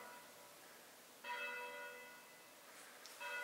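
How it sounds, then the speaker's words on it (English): Church bells ringing in the distance in Italy, heard from inside an old family mansion: faint sustained tolling with a fresh strike partway through and another near the end, no talking. "You can hear the church bells in the background."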